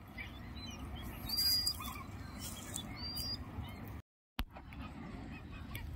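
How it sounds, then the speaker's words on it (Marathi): A large flock of birds calls at a sanctuary in faint, scattered high chirps and tweets over a low wind-like background rumble, with a brief dropout near the end. "इथे पाहू शकता एवढ्या असंख्य संख्येने इथे पक्षी आता आलेले आहेत"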